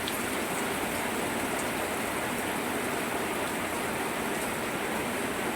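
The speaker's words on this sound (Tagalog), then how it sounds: "Sobrang lakas po ng ulan mga idol." Heavy rain pours down steadily in a dense, continuous roar, loud and close, with no voices over it.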